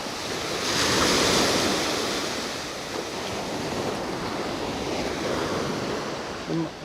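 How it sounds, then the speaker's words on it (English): Ocean waves roll onto a Florida Gulf Coast beach on a morning with wind, a loud, continuous surf roar that swells and eases, with wind buffeting the microphone. "It's just kind of nice rolling waves."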